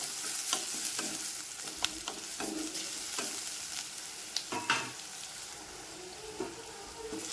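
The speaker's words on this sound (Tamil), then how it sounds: "4 பல்லு பூண்டு போட்டுக்கலாம். போட்டு வதக்கி விடுவோம்." Chopped onion and four garlic cloves sauté in a pan for vatha kuzhambu, a constant close sizzle broken by repeated spoon scrapes and stirring knocks.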